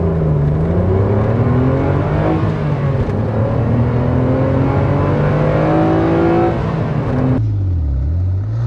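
A Renault Clio V6 255 Phase 2 engine pulls hard and loud, its note climbing steadily through the revs, then drops sharply near the end as the driver lifts off.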